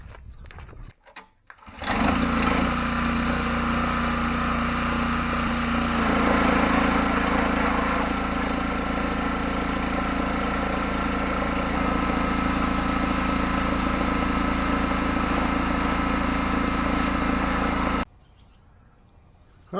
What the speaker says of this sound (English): Now we'll get the pressure washer out.